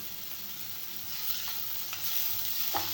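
Green chilies sauté in a pan for a ridge gourd gravy, giving a steady, even sizzle with faint stirring taps and no voices.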